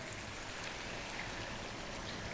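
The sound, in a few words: pouring water into goat curry with tomatoes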